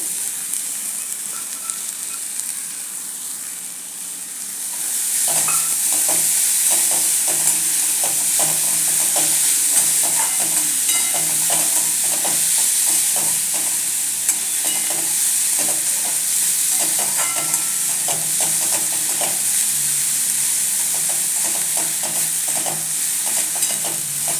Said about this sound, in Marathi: असं एक दोन मिनटं मसाले कांदा टोमॅटो सगळं व्यवस्थित परतून घ्यायचं आता याच्यात आपण जो धुवून घेतलेला जवळा आहे तो घालायचा आहे